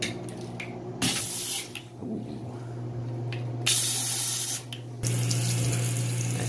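Water hisses and sprays from a Trustmi hot and cold bidet in a bathroom, the stream shifting in strength in several abrupt surges, close and alone.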